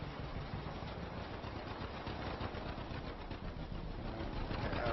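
A 1949 farm tractor engine running steadily at a low, even rumble, heard from a distance while cultivating and grass drilling, with no breaks.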